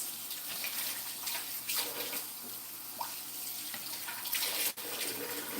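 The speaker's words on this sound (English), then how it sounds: "One moment while I tidy up here and wash my hands." Water runs steadily from a tap while hands are washed at a sink after handling chocolate and peanut butter, a continuous hiss with a few brief splashes and clinks, nobody speaking.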